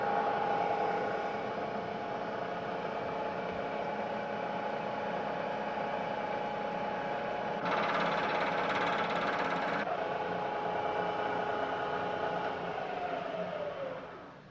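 A milling machine cuts a metal workpiece in a machine shop with a continuous, loud mechanical hum and steady tones, a brighter high whine cutting in for a couple of seconds before the drone winds down.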